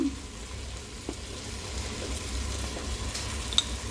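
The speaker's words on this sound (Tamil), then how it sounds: "இது வெங்காயம் தக்காளி பழம் இப்போ கொஞ்சம் நேரம் வதங்கட்டும்" Onions and tomatoes sauté in a pan for a fish curry, giving a steady moderate sizzle with a couple of faint clinks, close and continuous without voices.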